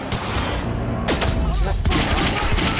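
Gunfire in the video game Quantum Break, a dense, loud burst of rapid shots and impacts filling the whole clip, with shouted voices underneath.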